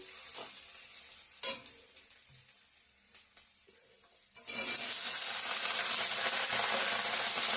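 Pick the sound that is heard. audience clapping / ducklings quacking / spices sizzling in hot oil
spices sizzling in hot oil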